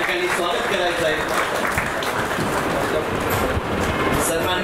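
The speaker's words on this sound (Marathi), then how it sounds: "आपण सर्वांनी त्यांचं एकदा टाळ्या वाजवून या ठिकाणी स्वागत करायचं आहे" An audience applauds at an award ceremony marking a newspaper's first anniversary, a dense continuous clatter of many hands that stays loud and steady from start to finish.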